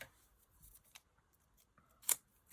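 Scissors snip through a large glue dot, giving a few quiet clicks and one sharper cut near the end in a hushed room.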